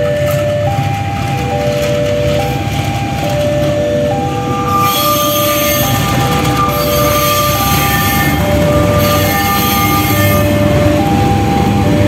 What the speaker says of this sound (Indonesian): Itu yang ada di sana adalah kereta eksekutif rangkaian stainless steel yang sudah pakai livery